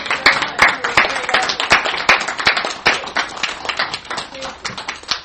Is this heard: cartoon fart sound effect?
no